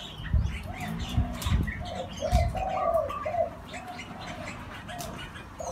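Zebra dove, also called Java dove, cooing outdoors: soft rolling coos repeat in short phrases at moderate distance, with a few faint chirps and a low background hum.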